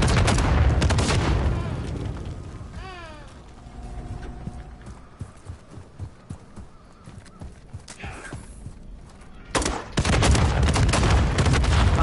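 Chain gun fire in a video game: dense bursts of rapid gunfire at the start and again near the end, with scattered clacks and mechanical sounds in a quieter middle stretch.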